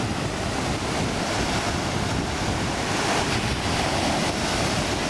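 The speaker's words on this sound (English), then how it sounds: "this is the top of Omaha Beach, not far from Colleville" Waves break steadily on Omaha Beach in Normandy near Colleville, a continuous surf roar mixed with buffeting wind noise, with no voices.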